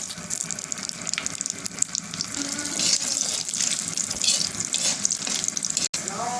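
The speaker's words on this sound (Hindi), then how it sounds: "बचा हुआ तेल में हरी मिर्ची डाल देते हैं, सूखा लाल मिर्च और राई का दाना, चटकने देंगे इसको।" Mustard seeds, green chilies and dried red chilies crackling in leftover hot oil for Andhra-style lemon rice, a dense steady sizzle and spatter heard close up with no talk.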